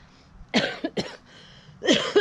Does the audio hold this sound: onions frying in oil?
no